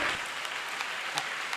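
Hands clap in a quick, uneven patter during a prayer gathering, fairly soft and somewhat distant, with no voices over it.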